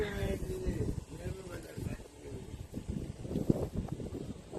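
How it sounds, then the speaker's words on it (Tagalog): Gusty wind by the sea in South Korea buffets the microphone with a low, rumbling roar while people talk nearby. "Malakas hangin dito, oh."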